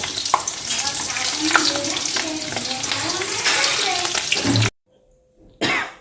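Pointed gourds (potol) sizzle and fry in hot oil, a steady loud crackle with stirring sounds, then cutting off briefly before resuming.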